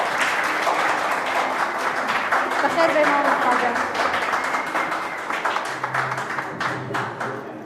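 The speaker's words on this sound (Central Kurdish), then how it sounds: "بە چەپڵە پێشوازی لێ بکەن" An audience at a school science competition applauds as the principal enters, a dense burst of clapping that gradually thins out, with a voice speaking a welcome over it near the end.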